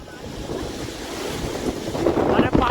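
Strong wind gusts roar across a vegetable market during light rain, a loud continuous rush with buffeting microphone noise that swells toward the end.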